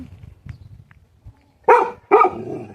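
Two loud, close dog barks ring out in quick succession after a stretch of faint low rustling, in a rural yard where laying hens are kept.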